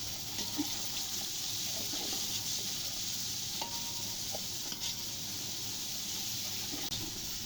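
Beef keema being stirred with salt, red chilli and turmeric powder in a pan, a steady soft sizzle under scraping and clinking of the spoon against the metal, no talking.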